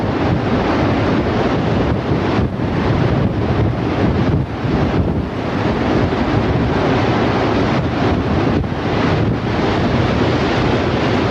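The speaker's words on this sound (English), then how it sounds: "Awful damn windy." Strong wind roars continuously into the microphone during tornado weather, a loud, steady broadband rush with gusty surges and buffeting throughout, no speech.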